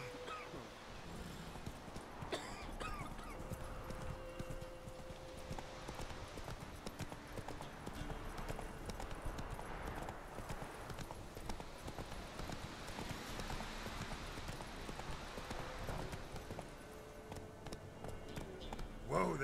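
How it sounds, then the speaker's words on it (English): Horse hooves gallop in The Witcher 3: Wild Hunt, a fast, continuous clip-clop drumming on the ground, close and steady throughout the ride. "Whoa there, Roach"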